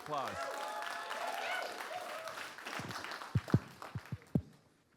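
A crowd claps and applauds steadily, building briefly before tapering off into a few scattered loud claps near the end.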